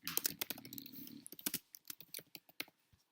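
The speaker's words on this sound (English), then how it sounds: "let's just type that out" Fingers type on a computer keyboard in quick, uneven clicks and taps, a dense burst at first and then sparser keystrokes, close but quiet.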